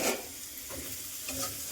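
Mustard seeds spit and sizzle in hot oil in a pan as they temper for a bitter gourd dish, a soft steady crackle close by with no voices.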